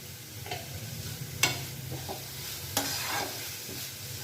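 Chicken keema masala with chopped tomato and salt being stir-fried in a pan, a continuous sizzle with a few distinct spatula scrapes and knocks, close up with no voices.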